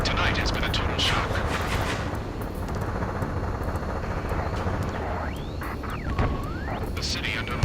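Video-game gunfire crackles through a city under martial law, with bursts of shots mixed into a dense, loud, rumbling battle din and jet roar that fills the whole stretch; a voice talks over it.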